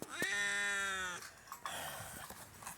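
A cat named Lily lets out one long, loud, drawn-out meow close by, followed by quieter rustling and small movement sounds.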